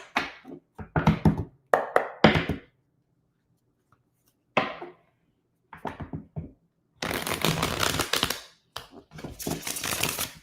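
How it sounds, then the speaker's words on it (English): Tarot cards are shuffled by hand in bursts of crisp riffling and flapping, short rapid flurries separated by pauses, close and clear with no talking. "One more shuffle, Aquarius."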